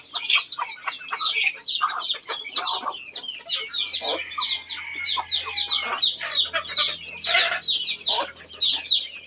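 Chickens and ducks on a Lao family farm at morning feeding, with close, busy clucking and chirping in rapid bursts, a few sharper calls, and a low hum in the background.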